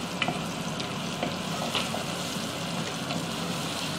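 Green chillies and aromatics frying for egg Maggi, lightly browning in a pan with a steady close sizzle and faint stirring clicks throughout, no voices.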